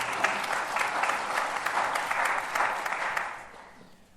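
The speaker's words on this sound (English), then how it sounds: "Could you please have a warm round of applause for Jeremy Harte" An audience gives a warm round of applause to welcome speaker Jeremy Harte before his talk, a full, steady clapping that swells and then tapers off toward the end.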